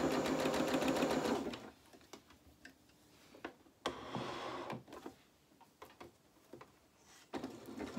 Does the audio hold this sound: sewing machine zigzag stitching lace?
yes